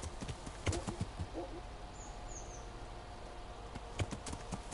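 Horse hooves in Kingdom Come: Deliverance clip-clop in an uneven walking rhythm, soft dull thuds spaced through the clip with faint ambient birdsong and a voice talking over it.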